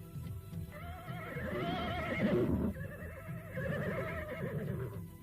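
A horse in a radio drama whinnies in two long, loud, quavering neighs separated by a brief pause, close and prominent, with a faint low rumble underneath and no talking.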